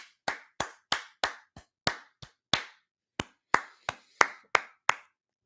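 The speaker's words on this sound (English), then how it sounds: "Clap for my man, Trash Boat." A streamer claps his hands alone, about fourteen sharp, close claps in an uneven rhythm with a brief pause midway.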